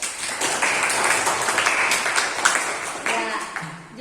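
Classroom clapping from students during a school guidance lesson, a burst of hand claps mixed with voices talking over and around it, fairly close and uneven.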